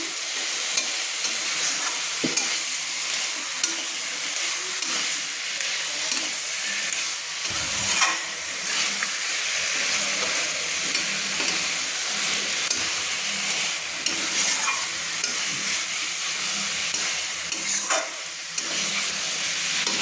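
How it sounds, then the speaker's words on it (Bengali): Chicken pieces with chicken masala are stirred in a frying pan for a murgir jhol with kamalu, giving a steady close sizzle and hiss, with scraping spoon strokes at irregular intervals throughout; no one speaks. "দিয়ে একটু ভালো করে আমি নেড়ে নিচ্ছি"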